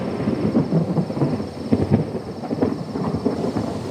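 Low thunder rumbles steadily just before rain, with a soft hiss of rain or wind mixed in. A deep, rolling, continuous sound, moderately loud, with no voices.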